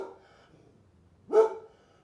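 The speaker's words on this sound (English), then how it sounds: "Can you make the sound of a dog barking?" A dog gives one loud, sharp bark on cue indoors after a quiet pause, with a faint earlier murmur of low sound.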